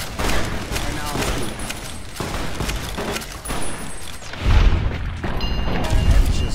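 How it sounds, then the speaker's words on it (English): Gunfire from Fallout New Vegas, a steady barrage of layered shots with heavier booming bursts near the end, continuous and dense throughout. "Now Eddie already started shooting"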